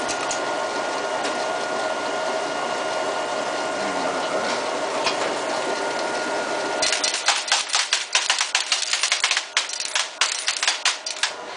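A Linotype typesetting machine hums steadily, then shifts into a rapid clatter of sharp mechanical clicks as slugs are cast and trimmed, loud and close with no voices.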